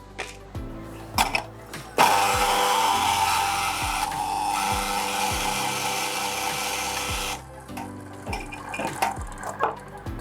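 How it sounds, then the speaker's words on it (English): Electric grinder whirring through coffee beans in a steady, loud burst of about five seconds, with softer clicks and handling knocks before and after. "So then we are going to grind our coffee."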